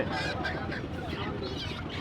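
Desi chickens cluster at Hasnabad village market in Keraniganj, Bangladesh, their clucks and squawks blending into a dense, continuous market din with voices talking nearby.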